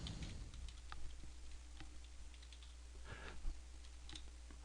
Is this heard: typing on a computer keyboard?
yes